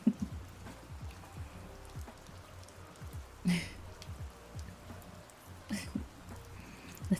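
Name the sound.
rain falling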